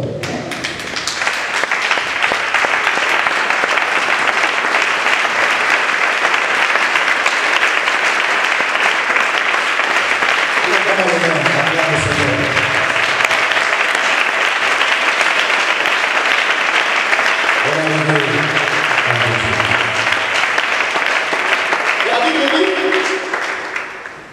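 A church congregation stands and applauds, loud sustained clapping and crowd noise filling the space throughout, with a voice speaking over it at intervals.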